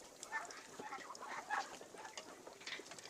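Chinese ducks on a farm are fed grain and water in the morning. Faint, overlapping quacks and honks come from a small flock at a moderate distance, steady throughout with no talking.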